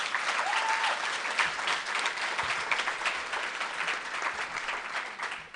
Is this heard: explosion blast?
no